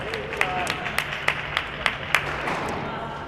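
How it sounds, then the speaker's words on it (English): A single person claps eight or so sharp, evenly spaced times after a good shot at a Canadian university and college curling championship, the claps fairly close over a steady background hum. "I still clap for the shots like they can hear me."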